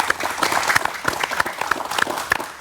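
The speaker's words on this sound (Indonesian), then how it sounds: "Tepuk tangan dulu dong." An audience at a talk on subsidized fertilizer use claps briefly, a short burst of scattered, uneven hand claps close by.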